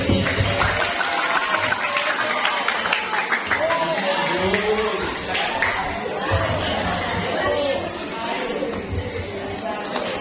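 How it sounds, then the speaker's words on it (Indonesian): A school assembly audience breaks into applause, a dense patter of clapping that runs through the whole stretch beneath a busy murmur of voices and chatter. "Ya, tepuk tangan kita."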